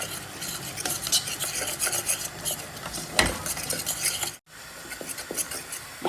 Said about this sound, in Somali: burkii subagii waxaan isku walaaqanayaa hadda